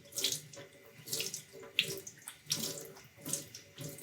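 Tap water runs into a sink while a soft foam stencil brush is squeezed and rinsed clean, the flow surging and splashing in uneven bursts, close and fairly quiet, with no talking.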